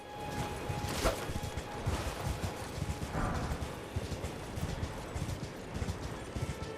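Horse hooves clip-clop in a steady trotting rhythm in the Elden Ring video game, mid-loud with a brief sharper impact near the start and faint ambient game sounds throughout.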